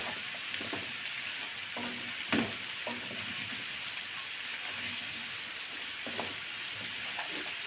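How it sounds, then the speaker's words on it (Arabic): Liver frying with onions in a pan, a soft, steady sizzle under intermittent stirring clinks and scrapes, one sharper knock of the utensil, fairly quiet and without speech. "هغطيها تاخد لها تقليبه بالبصل واحط عليها الفلفل"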